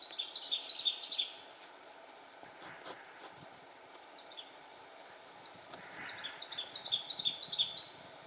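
An ovenbird sings its rising teacher-teacher phrase from the forest edge, once at the start and again near the end, faint and somewhat distant over a quiet background.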